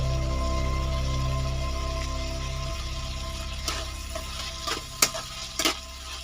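Vegetables with peas fry in a pan for a veg dal, with turmeric going in. A steady low hum comes first, then scattered utensil scrapes and clicks as the mix is stirred, near and moderate, with no talking.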